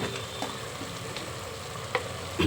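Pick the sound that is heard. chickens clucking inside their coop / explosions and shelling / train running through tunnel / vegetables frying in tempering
vegetables frying in tempering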